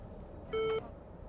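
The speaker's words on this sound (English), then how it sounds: "The oxygen alarm beeped once. a soft chirp, and then went silent" An oxygen alarm gives a single short, soft electronic beep over a low background hum.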